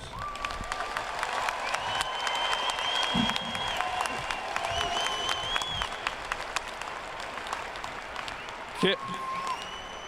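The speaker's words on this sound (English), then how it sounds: "Let's give them a round of applause." Large audience at a university fall commencement ceremony applauding the standing graduates, sustained dense clapping filling the hall while tones and voices carry faintly underneath.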